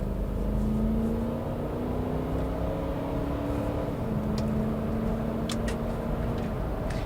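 A 2003-2009 Lexus GX 470's V8 engine hums steadily while driving, a smooth low drone with gently rising pitch over constant road and wind noise, heard from inside the cabin.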